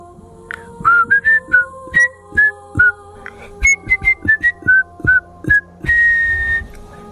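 A man whistles a casual, cheerful tune while walking along a road, about twenty short clear notes in quick phrases ending on one long held note, close and alone over a quiet background.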